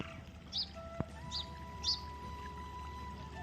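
A myna bird gives three short, bright chirps while bathing in water, fairly faint against a quiet background with a low hum and a single sharp click.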